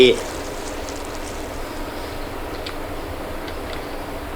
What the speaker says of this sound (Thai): ก๊อกน้ำที่น้ำไหล